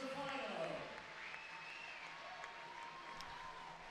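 A crowd at the 2017 IFSC Climbing World Cup lead semi-finals in Kranj applauds a climber, a steady wash of clapping and cheering that swells at the start and then holds, with a commentator talking over it.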